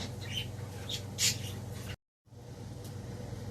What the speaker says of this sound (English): Breakfast with the birds.